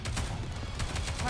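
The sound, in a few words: gunfire in the video game NIKKE: Goddess of Victory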